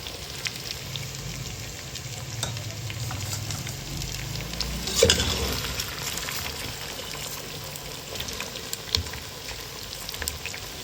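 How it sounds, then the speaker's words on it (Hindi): Onions frying in oil in a pan while cooking an arvi chicken masala, giving a steady close crackling sizzle throughout with a louder splash of stirring midway, and no voices. "इसी ऑयल के अंदर आपने प्याज को डाल देना है और हल्का सा प्याज को फ्राई करना है"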